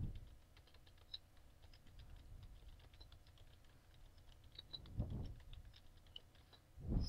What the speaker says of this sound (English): Sorry if I'm typing this in wrong.